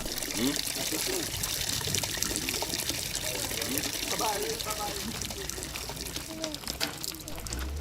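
Filtered water drawn from a polluted well runs and trickles steadily from a water filtering system outdoors, a continuous splashing flow with faint voices in the background.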